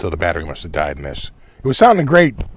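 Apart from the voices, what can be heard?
None of the usual background noises is heard.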